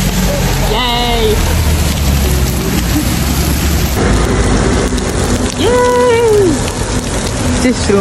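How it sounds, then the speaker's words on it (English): Heavy rain pours steadily and loudly, a dense constant hiss from start to end, with a voice speaking over it and brief tonal sounds drifting through. "Hey guys, it's pissing rain."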